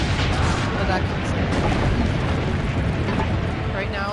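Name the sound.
cannon fire explosions in video game Assassin's Creed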